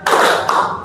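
Two sharp hand claps land close together, about half a second apart, each loud and near, with a short ring after it and no talk.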